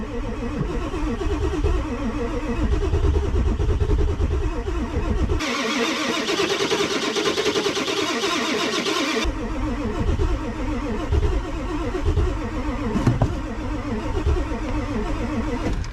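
A diesel starter cranks hard during a -42F cold start, a steady labored grinding chug that runs continuously at close range and fairly loud, with no voices.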